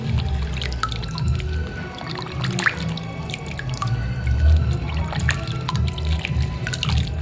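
Thorny medicinal leaves are rinsed in clean water, with steady splashing, trickling and dripping that carry on close up and without pause.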